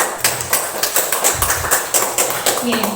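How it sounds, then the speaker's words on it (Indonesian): An audience of women in a school classroom claps hands in a scattered, irregular patter of fairly close taps, with voices talking over the clapping. "Tepuk tangan untuk kita semua."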